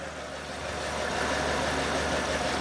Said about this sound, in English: It's an engine and it works.